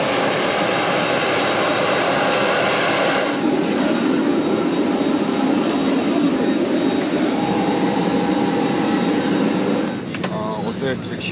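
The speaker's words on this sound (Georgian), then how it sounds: "აი ჩვენი თვითმფრინავიც გამოჩნდა." A jet airliner arrives at an airport with a loud, sustained engine roar that stays steady for about ten seconds before easing slightly, while voices are heard nearby.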